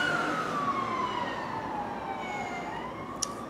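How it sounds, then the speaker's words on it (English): A distant emergency siren wails, its pitch sliding slowly downward over steady traffic rumble, faint and far off. "Sorry, lots of sirens today."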